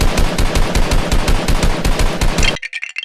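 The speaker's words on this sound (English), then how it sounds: "let's try shooting the glued house with this Nerf gun" A Nerf gun fires at a glued Lego house in a rapid, steady burst of loud mechanical shots at close range, which stops abruptly and leaves a few faint rattling taps.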